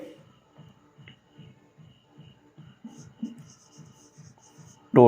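Pen writing out a maths solution on paper, a steady series of soft scratchy strokes at close range, ending with a brief louder rustle.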